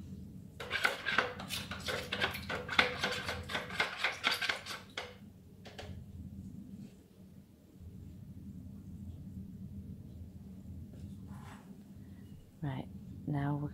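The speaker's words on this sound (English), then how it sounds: "And then give it a good stir." Scone mixture with a squirt of lemon juice stirred in a bowl, a fast run of repeated scraping and clinking strokes near the start, then quieter background with some talking.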